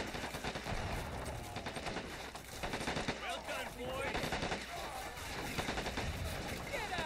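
Dense gunfire fills a World War II battle for Hill 400 in Men of War: Assault Squad 2 with a Call of Duty mod. Overlapping machine-gun rattles and scattered shots run continuously over a rumbling battlefield backdrop, with faint voices.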